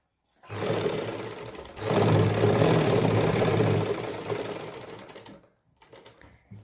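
An electric sewing machine runs in two bursts, stitching a double seam along the waist of a suit, a steady whirring buzz up close with a short pause between runs and a brief tail at the end.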